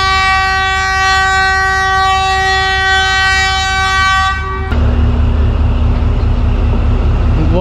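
The Badar Express, a private passenger train, arrives at a crowded station: a loud, sustained multi-tone horn blares close by for several seconds, then cuts off, leaving a heavy engine rumble and hiss.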